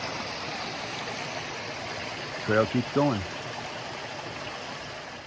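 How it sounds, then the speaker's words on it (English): Small waterfalls on an iron-red creek pour with a steady, broad rushing hiss close by, as someone speaks briefly over the water. "Cool little mini waterfalls"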